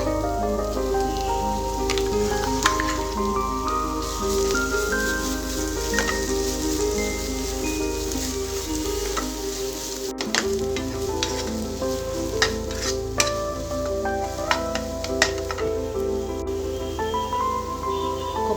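Coconut and almond paste frying with onions in a pan, a dense continuous sizzle with frequent stirring scrapes and clinks, close and steady, with a brief dip midway.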